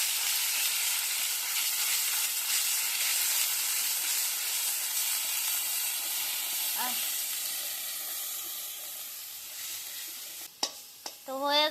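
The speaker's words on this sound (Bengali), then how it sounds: "তেলটা গরম একটু গরম হয়েছে বাটা দিয়ে দিলাম" Banana flower paste sizzles in hot mustard oil, a steady close frying hiss with stirring that fades slightly toward the end, followed by a few sharp clatters.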